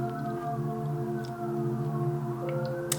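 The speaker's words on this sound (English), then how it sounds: "You hear those sirens, right?" Sirens wail in the background with slowly gliding rising and falling tones over a steady layered hum, continuous and moderately loud, with no talking.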